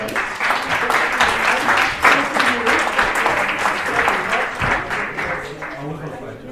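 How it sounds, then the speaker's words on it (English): An audience at a GLAMhack presentation livestream gives sustained, loud applause for people on stage, a dense clatter of many hands with a voice briefly audible over it. "Please, a warm applause for everyone on stage."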